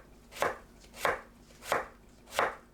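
Four evenly spaced knife chops julienne peeled potatoes into thin strips on a cutting board, crisp and close, with quiet pauses between each stroke.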